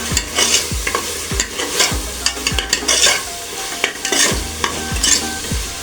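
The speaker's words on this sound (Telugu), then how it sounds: "ఇవన్నీ వేసిన తర్వాత ఒక్కసారి ఇలా కలిపేసి, మొత్తం ఇలా కలిపేసి" Homemade chicken biryani mixture stirred in a pot, a ladle scraping in regular close strokes over a soft, steady sizzle, with no talking.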